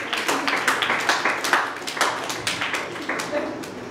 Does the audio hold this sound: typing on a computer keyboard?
no